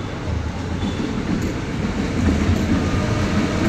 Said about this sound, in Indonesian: Ada suara kereta